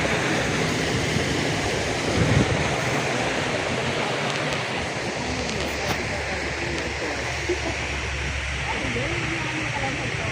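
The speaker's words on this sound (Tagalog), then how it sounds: "May ilog." A river flows through rural countryside near rice fields, a steady broadband rush of water heard close and constant throughout, with no voices over it.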